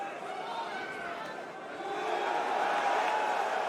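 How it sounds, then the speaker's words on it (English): Spectators at a Bellator heavyweight MMA fight roar and cheer, a broad steady crowd noise that swells louder in the second half, with a commentator talking over it. "the crowd are cheering"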